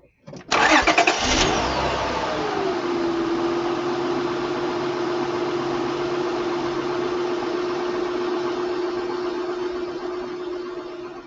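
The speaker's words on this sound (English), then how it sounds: "So let's start the car." Car engine starting during a battery and charging system check, a short crank that catches into a loud rev, then settles to a steady idle that continues to the end.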